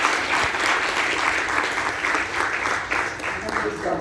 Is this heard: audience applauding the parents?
yes